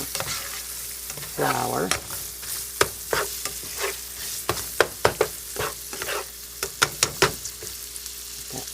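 Food frying in a pan while gravy is being made, a quiet sizzle punctuated by repeated sharp scraping and stirring clicks, close by, with a brief spoken word.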